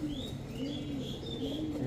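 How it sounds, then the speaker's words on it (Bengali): A large male Tiger Racer pigeon cooing close by, repeated wavering low coos over a background of other loft birds and light chirping. "খুব সুন্দর একটা টাইগার রেসার নর কবুতর দেখেন।"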